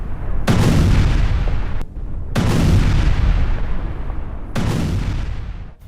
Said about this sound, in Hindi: अमेरिकी हमलों के बाद धमाका हुआ है।